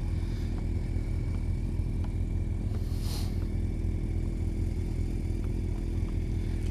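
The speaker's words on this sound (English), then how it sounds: "That's my old Harley Road King there." Harley-Davidson Road King motorcycle out on a ride, a steady engine drone heard with heavy wind rumble and faint clatter from an action camera mounted on the bike.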